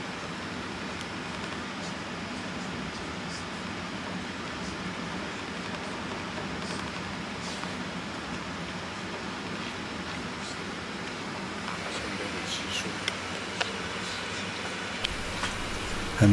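Steady, loud broadband rumble and rushing noise inside a high-speed bullet train cabin just after it leaves a tunnel, running through mountains at under 200 km/h, with faint ticks and rattles near the end.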